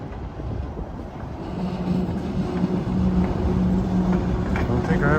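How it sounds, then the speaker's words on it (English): A train moves through Port Clinton station with a steady low rumble and a sustained hum, loud and close for the whole stretch, under wind buffeting the microphone. "I don't think I've ever seen anybody take a picture of a train moving through."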